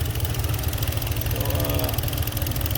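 A 2013 Hyundai Tucson engine idles with a steady low pulsing rumble close by, its cooling fan whirring along as a constant broadband hiss, with no talk over it.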